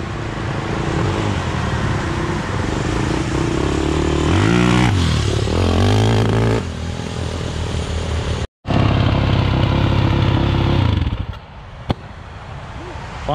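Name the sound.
Yamaha YZ450F engine-powered tractor running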